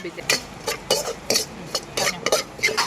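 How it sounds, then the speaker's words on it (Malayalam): Coconut roasting in a pan with spices such as chillies, cloves, cinnamon, cardamom and curry leaves, for a Kerala crab curry, stirred with repeated scraping strokes in a steady rhythm, close up and moderately loud. "അപ്പോൾ ഞാൻ തേങ്ങ വറുത്തുകൊണ്ടിരിക്കുകയാണ്."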